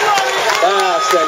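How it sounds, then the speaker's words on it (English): Street-race crowd at the Bermuda Front Street Mile clapping and cheering runners home, rhythmic claps and shouts mixed under a loud announcer's voice. "Keep clapping, everybody. Cheer them home."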